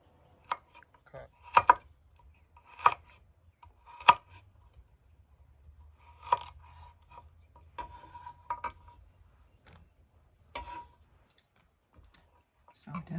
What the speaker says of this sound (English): We're going to be slicing them on the diagonal so we get nice, even, beautiful